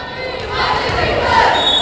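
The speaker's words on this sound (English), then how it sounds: "Santa Paula fans cheering the famous SATNA Santa Paula chant, cheering on those girls varsity volleyball here in the McMahon gym." Santa Paula fans in the McMahon gym cheering a chant for their girls varsity volleyball team, a loud, reverberant crowd roar that builds over a brief moment.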